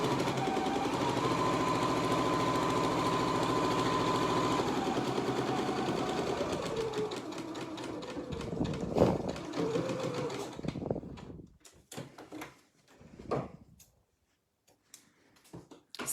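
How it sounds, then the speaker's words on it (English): A sewing machine stitching a fabric pennant banner runs in a steady whirring buzz, then slows into short start-stop bursts as it backstitches forwards and in reverse, close and fairly quiet. "I'm just going to do my 3 stitches forwards and then 3 reverse, just to secure it all"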